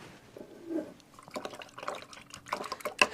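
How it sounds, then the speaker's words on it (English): A paintbrush is swished and rinsed in a water container during an art lesson, giving soft irregular splashes, drips and sloshing close by. "To wash out your brush again."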